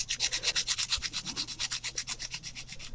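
A drawing pencil is sharpened on sandpaper in quick, even back-and-forth strokes, a close, rhythmic scratchy rasp repeating about six times a second with no talk.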